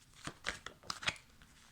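Dixit game cards are dealt onto piles on a table: a handful of soft, quick papery slaps and flicks, irregular and quiet, with no voices.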